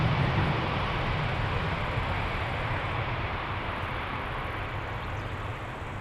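Airliner taking off at Amsterdam Schiphol Airport, a loud broad engine roar that slowly eases as it climbs away, steady and alone without voices.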